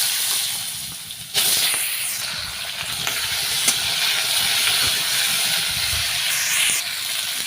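Chopped bottle gourd drops into hot oil with cumin in a village kitchen. After a brief lower stretch, a sudden loud sizzle and hiss rises and holds steady up close.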